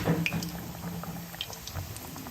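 Pişi dough frying in hot oil, giving a soft, steady bubbling sizzle with small scattered pops, close and fairly quiet with no voices.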